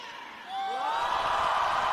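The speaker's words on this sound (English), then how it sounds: "So the crowd just being cranked up a little bit here" A crowd at the 2023 Pacific Games closing ceremony in the Solomon Islands cheers and whoops, with rising whistles; the broad roar swells sharply after a quiet first half-second and stays loud.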